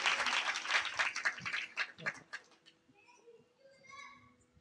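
Children clap in the audience of a Marathi kirtan, a dense burst of hand claps over the first couple of seconds that thins out and dies away, leaving faint chatter and background sounds.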